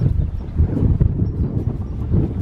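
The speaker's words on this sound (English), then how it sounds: "The wind's really picking up." Wind buffets the microphone outdoors at an old desert mining ghost town near Nelson, Nevada, with loud, uneven low rumbling gusts that rise and fall continuously.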